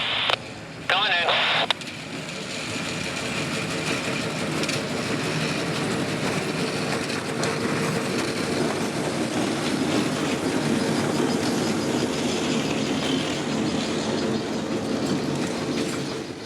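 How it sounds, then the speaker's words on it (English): A train rounds a corner into the yard with a continuous rumble and faint wheel noise, while radio chatter and voices sound over it throughout. "get ready for the train as it rounds the corner at FPL"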